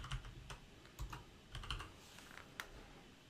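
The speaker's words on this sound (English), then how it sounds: "we're going to click on the second text box and type Interact" Rapid keystrokes on a computer keyboard as text is entered into a text box in a Word document, a close, steady patter of clicks with a few louder taps, alone with no talking.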